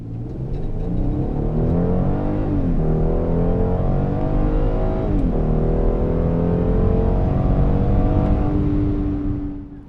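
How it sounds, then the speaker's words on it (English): A 2015 Hyundai Genesis 3.8 V6 with H-Trac all-wheel drive launches at full throttle from a standstill, its engine revving loudly and climbing through gear shifts with a continuous drone from inside the cabin. "full throttle launches from a standstill are accompanied by no wheel spin as the wheels take grip"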